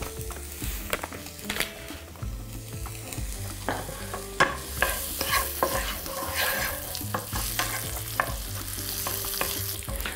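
Onion and meat sizzle in a pan while being stirred, with scraping and clacking of a utensil against the pan, steady and close.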